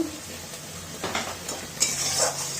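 Green peas being sautéed in a pan for a potato, cauliflower and egg curry, with a quiet background sizzle broken by a few scraping stirs and utensil clinks near the end.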